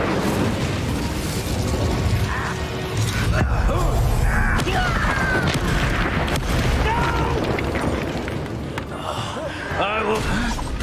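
Magical combat effects from Incendio and Repulsor spells in Hogwarts Legacy on Nintendo Switch: whooshing bursts, pops and booming impacts layered densely and loud, with grunts and voices mixed in throughout.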